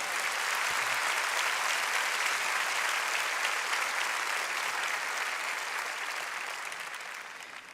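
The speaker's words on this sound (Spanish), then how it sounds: "Dale a nuestro Señor ese aplauso." Sustained applause from a large church congregation during a sermon, loud and steady throughout, tapering slightly toward the end.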